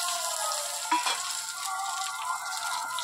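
Fish frying with bottle gourd leaves over low heat gives off a steady, soft sizzle of hot oil with a brief louder crackle near the start, with no voices.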